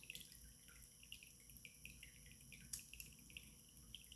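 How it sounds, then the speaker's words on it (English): Water trickles and drips in the background, a soft steady patter with small splashes, fairly faint and with no talking. "Hopefully you hear my water running in the back."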